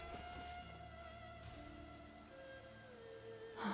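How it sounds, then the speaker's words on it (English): Rain falls in the video game Genshin Impact, a soft, steady patter under quiet ambient music, with no voices heard. "It's raining."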